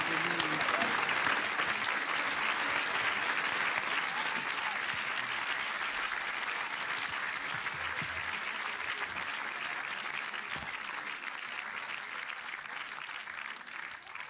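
A large concert crowd at a show in Switzerland claps in a steady, roaring wave that holds for many seconds and slowly eases off.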